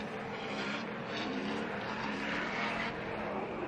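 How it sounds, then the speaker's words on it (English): A V8-powered BMW drift car roars through a Formula Drift qualifying run in Texas, a dense, continuous engine howl that holds fairly steady at a moderate distance. "That V8 BMW sounding aggressive"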